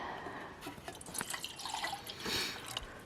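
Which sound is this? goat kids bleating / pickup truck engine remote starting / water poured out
water poured out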